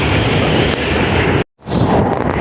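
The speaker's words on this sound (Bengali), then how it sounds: "বন্ধুরা, ট্রেন এখন আমাদের খিদিরপুর ঢুকছে" Kolkata Circular Railway train entering Khidirpur station, with loud, close rumbling and clattering wheels and a brief sharp drop near the middle before the roar resumes.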